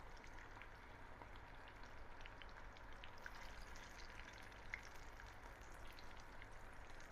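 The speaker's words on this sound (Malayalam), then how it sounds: "എണ്ണ ചൂടായി വന്നിട്ടുണ്ട്, നമ്മൾ ചിക്കൻ ഇട്ട് കൊടുക്കാം കേട്ടോ." Chicken pieces frying in hot oil in a home kitchen, a steady, quiet, dense sizzle with faint popping crackles, continuous throughout with no voices.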